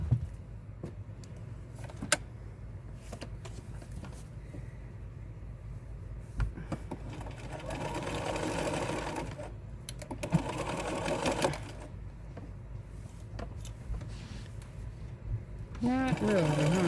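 Sewing machine stitching clothes, a steady mechanical whir running in short and longer bursts, close and moderately loud in a quiet room.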